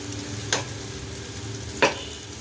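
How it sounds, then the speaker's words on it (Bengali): Pomfret pan-frying over a low flame, the soft fish being turned carefully: a steady, quiet sizzle runs throughout, broken by two sharp, brief clatters about a second apart. "এক পিঠ ভাজা হয়ে গেলে তখন আরেকটা পিঠ আমি উল্টে দিয়েছি"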